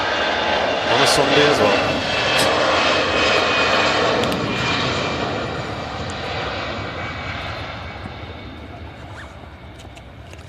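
An easyJet Airbus A320 departs for Munich, its jet engines roaring loudest early on and then slowly fading as it climbs away, with a person talking briefly over the noise.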